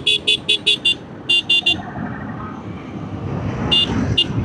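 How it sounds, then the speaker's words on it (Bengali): A faulty motorcycle horn giving off an auto-rickshaw-like tone, in quick bursts of short beeps: five, then three, then a couple more, over the rumble of road traffic. "এখন অটোর মতো হর্ন বাজতেছে"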